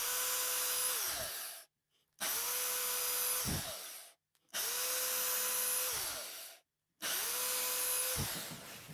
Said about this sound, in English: So just a smaller drill bit just to the depth.